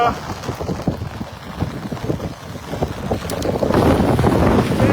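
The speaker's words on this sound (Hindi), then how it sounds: "मूसलाधार बारिश जो है वो शुरू हुई है" Torrential rain and strong wind lash a riverside spot during a heavy monsoon storm, a continuous rushing roar with gusty buffeting on the microphone that swells louder toward the end.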